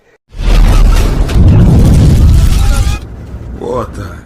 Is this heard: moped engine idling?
no